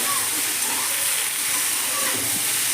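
Vegetables such as broccoli stems sizzling in a pan of frying onion and tomato, a dense steady hiss heard up close with light stirring.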